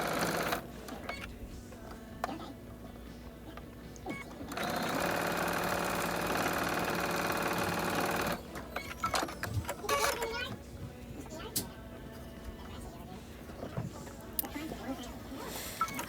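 Sewing machine sewing a fabric band onto a shop hop apron in one steady run of stitching of a few seconds, close and fairly loud, with quieter handling noises and pauses before and after.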